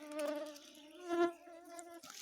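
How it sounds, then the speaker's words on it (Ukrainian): Mosquitoes swarming close around a seated person in a forest, a steady high whining drone with several overlapping tones that swell and fade, without speech. "І знову комарні налетіло, тільки присів."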